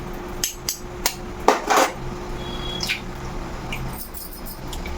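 Eggs dropped one by one into a pot of boiling water, giving several sharp clinks and knocks against the pot over a steady low bubbling hum, with no talking.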